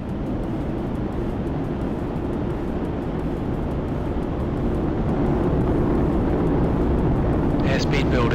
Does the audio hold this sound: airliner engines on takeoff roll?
yes